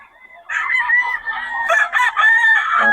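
A stag rooster crows at a Bocaue market in the Philippines, one long, loud, close call running for about two and a half seconds with no talk over it.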